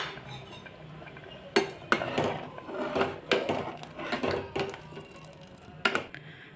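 A spoon stirring ragda with turmeric in a pot, giving irregular scraping and knocking clinks against the metal rim in uneven bursts, close and moderately loud, with no speech.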